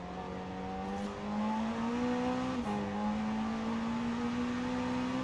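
The engine of an Automobili Turismo e Sport GT car in Forza Horizon 4 drones steadily at moderate revs, heard from outside the car, rising slightly partway through, loud and unbroken.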